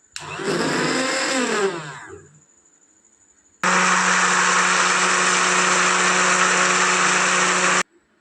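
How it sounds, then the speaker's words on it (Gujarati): A mixer grinder blends dragon fruit juice with milk in two bursts: a short whirring run that shifts pitch as it spins down, then after a pause a longer, loud, steady high-speed roar that stops abruptly. "તમે મિક્સર જારમાં કે ગ્રાઇન્ડરથી આ રીતે"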